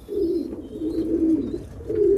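Homing and meat pigeons in a loft coo steadily and close by, their soft low rolling calls overlapping in a continuous murmur, with faint higher chirps above and no talking.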